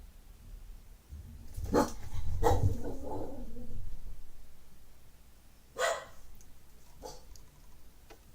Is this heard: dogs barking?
yes